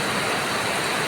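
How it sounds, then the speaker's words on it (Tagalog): Steady rain falls in the evening outside a rural house with garden plants and a neighbor's corn field, a dense, even hiss with no breaks or voices. "Naririnig niyo yung ulan?"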